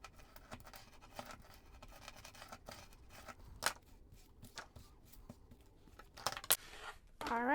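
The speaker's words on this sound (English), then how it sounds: "We just need to trim off these edges right here." Scissors trimming the edges of treat bags for a junk journal: faint, irregular snips and light crinkling of plastic, quiet and close, ending with a brighter rustle.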